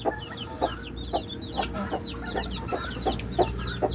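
White guinea fowl and a young chick on a farm give repeated short chirps and squawks, with bursts of clucking calls recurring roughly every half second over steady outdoor background noise.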